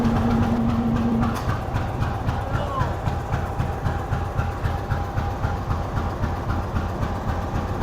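A train pulls out of Sukkur railway station in heavy winter fog, its low rumble and rail noise rolling continuously while a steady tone hums over it and a brief horn-like note sounds at the start.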